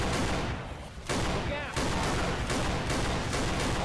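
Rapid bursts of gunfire in Left 4 Dead 2, with repeated shotgun-style blasts in close succession and loud continuous game noise, while players talk.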